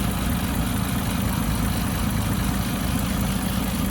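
A 1928 Hupmobile Victoria opera coupe engine idles smoothly and steadily, a low, even rumble held close by throughout with no voices over it.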